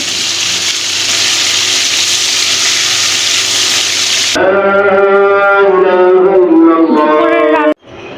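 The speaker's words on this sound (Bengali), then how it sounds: "আমি রুই মাছগুলো ভেজে নিচ্ছি" Rohu fish fries in a pan with a loud, steady hiss of sizzling oil. Partway through, the hiss cuts off and a tonal hum with shifting pitch takes over, then stops abruptly at the end.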